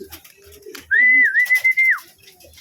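Pigeons make a single clear whistling, cooing call about a second long, close and alone with no talk.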